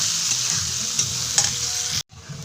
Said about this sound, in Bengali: একটু লবণ দিয়ে ভালো করে আর কি ভেজে নিই।